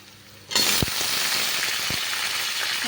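Drumstick pods hitting hot oil in a pan with roasted onion and tomato burst into loud, steady frying sizzle, with a couple of brief thuds as pieces drop in; no talking.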